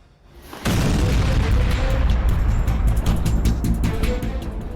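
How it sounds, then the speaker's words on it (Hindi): A sudden loud blast of a drone explosion in Romania breaks in after a brief quiet, then a sustained heavy rumble and crackle rolls on without fading. "ये यूक्रेन के ड्रोन का धमाका है, हुआ रोमानिया में है।"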